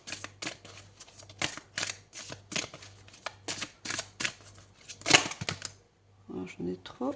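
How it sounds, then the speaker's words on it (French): Tarot cards drawn and shuffled in quick repeated riffles and slaps, crisp papery bursts at close range, with a brief low hum and a short pause near the end. "Allez, on va prendre une deuxième carte."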